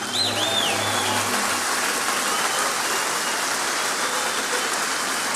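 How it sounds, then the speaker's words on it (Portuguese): Dense, steady clapping from a church congregation fills the whole stretch, loud and sustained like a room full of people applauding together. "vamos aplaudir Jesus"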